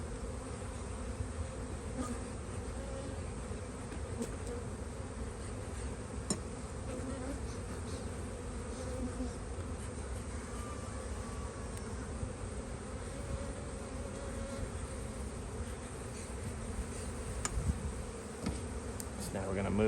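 Honeybees droning around an open spring hive box as the side is smoked to push them back in, a steady low buzzing swarm that stays fairly faint and constant throughout, with no talk.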